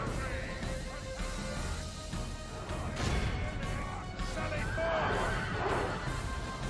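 Horses whinny amid a dense din of clashing combat in a Total War video game battle, with a voice talking over the steady roar.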